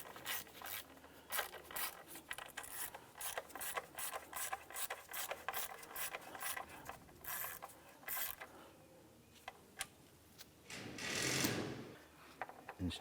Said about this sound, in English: There's only so far you can tighten these nuts down before it just stops